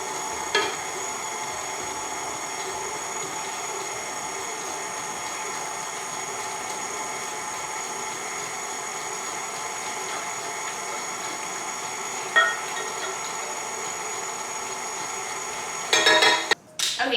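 An electric mixer on low speed beats a butter mixture for a cake, holding a steady whirring motor drone throughout, with a brief clatter near the end.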